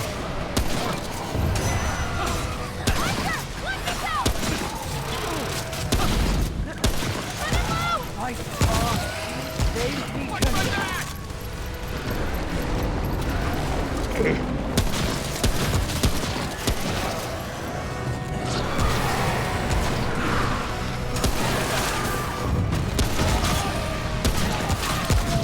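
Pistol and hunting rifle gunfire in a Halo video game, with dense, repeated shots and impacts that keep going throughout amid loud game noise.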